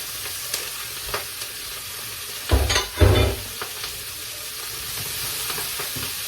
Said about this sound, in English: You let it cook, and then you put the Brussels sprouts in the pot